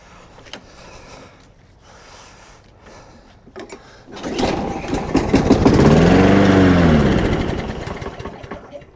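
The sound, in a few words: lawn mower engine starting and running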